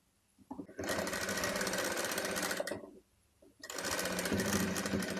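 A sewing machine runs steadily, stitching a pleated baby frock, with a whirring buzz for about two seconds, a brief pause, then another sustained run, close and clear with no talking.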